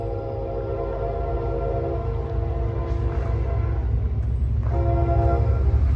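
CSX and Norfolk Southern trains meet at a gated crossing, one locomotive horn sounding long sustained chords over a steady rumble of rolling cars, the horn breaking off and returning for a final blast.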